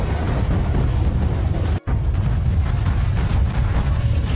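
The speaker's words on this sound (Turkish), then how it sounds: "mantar patlama" A mushroom-cloud bomb explosion from the Resident Evil series, with cheap-looking effects, gives a loud, sustained rumbling roar. A brief cut of near silence sits just before the midpoint, and the roar then continues unbroken.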